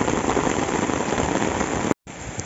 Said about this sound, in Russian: Да такой дождь, что просто капец.